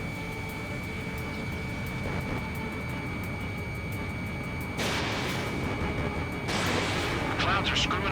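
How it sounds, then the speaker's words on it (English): Jet aircraft roar under steady engine noise in the air-combat game Ace Combat 7, broken by two sudden whooshing bursts of missiles firing, with a radio voice talking over it. "missile launch"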